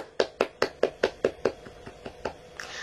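A teacher and pupils in a primary school class clap in a steady rhythm, about a dozen crisp, evenly spaced claps that trail off slightly toward the end.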